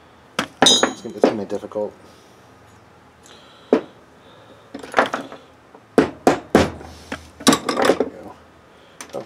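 Sharp metallic taps of a punch against the sleeve of a Team Associated AE Pro .28 nitro engine, several close, uneven clinks in short bursts, with someone talking between them.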